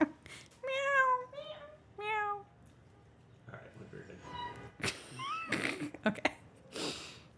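A pet cat meows several times in clear, harmonic calls during the first few seconds, close to the microphone, followed by a person talking and breathing noises.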